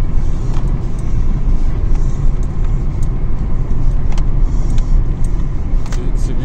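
A Peugeot 207's suspension makes faint, repeated knocks and clunks over holes and bumps beneath the heavy, constant rumble of driving on the road.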